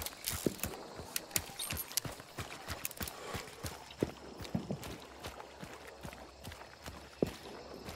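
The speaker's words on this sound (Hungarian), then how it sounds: "Lovat is le kell lőni, mert visít, mint a malac." A horse in the video game Hunt: Showdown, its hooves clip-clopping in a steady irregular rhythm at moderate distance, with a few sharper knocks; no clear squeal stands out.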